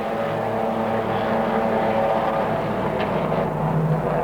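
Stock-standard Holden touring cars with 202 engines and 3-speed gearboxes race at Bathurst in 1991, a loud, continuous engine drone with no break.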